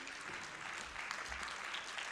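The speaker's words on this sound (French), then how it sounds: "on peut toutes et tous vous applaudir" Applause fills a hall at the close of the Myology 2019 congress held by AFM-Téléthon. The clapping is soft, distant and steady, a faint even wash with no voices on top.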